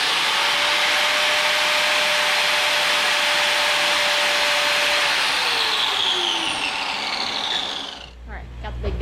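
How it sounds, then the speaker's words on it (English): A grinder used for metal fabrication runs loud and close as a steady, dense whine that gradually drops in pitch near the end, then cuts off abruptly with a short rumble. "So we're fabricating with a grinder."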